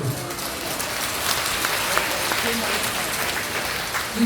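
Church congregation clapping for a Korean pastor, a moderate, diffuse patter of many hands that stays fairly even throughout, with a little voice and room murmur mixed in.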